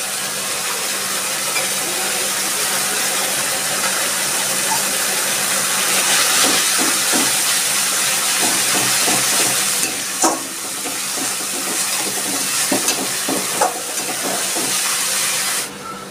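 Paste of four ground ripe red chilies sizzling and hissing in hot oil for a bhola fish curry, a loud, steady frying crackle that runs throughout with occasional sharper pops.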